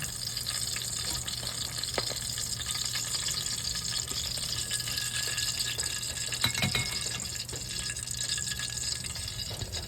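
Fish frying in oil in a home kitchen pan, a continuous soft crackle and sizzle with occasional louder pops and spits.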